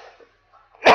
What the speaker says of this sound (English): I'm sorry for the coughing, guys.